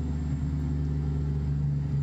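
A low, steady Kenworth W900 truck engine drone from American Truck Simulator, a modded DD60 engine sound, hums continuously at an even pitch, smooth and unvarying like a vehicle cruising on the highway.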